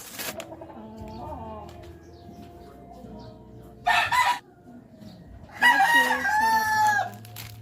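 Roosters crow loudly in two bursts over a background of clucking fowl and faint farmyard noise.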